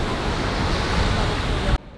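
Ocean surf washes steadily in a broad, roaring rush with wind noise over the microphone, holding loud and even before cutting off abruptly near the end.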